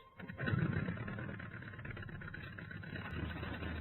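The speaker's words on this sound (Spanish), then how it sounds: "Arrancan los motores" WWI aircraft engines start up and settle into a rough, rumbling idle, a dense low mechanical drone that swells after a brief moment and holds steady.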